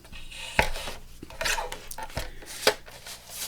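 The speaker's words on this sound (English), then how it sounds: "So let's use the little Timmy trimmer" Scraping and slicing of a small Tim Holtz paper trimmer cutting a journaling card, several brief quiet cuts and rubbing strokes close by, with no talking.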